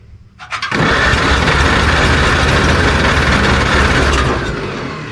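A 1949 Farmall Cub tractor engine being cranked at half throttle and half choke: a few quick turning pulses, then a loud, close, steady rumbling roar that holds for several seconds and eases slightly at the end.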